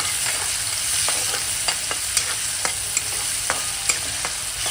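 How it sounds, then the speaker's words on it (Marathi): Chopped onions sizzling in hot oil with crackled cumin seeds in a pan, a steady dense frying hiss with occasional sharp stirring clicks of a spoon against the pan. "आता ह्याच्यामध्ये आपण कांदा टाकायचा आहे"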